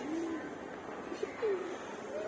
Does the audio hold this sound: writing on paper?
no